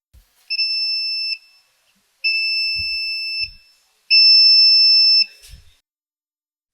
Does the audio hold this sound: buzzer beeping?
yes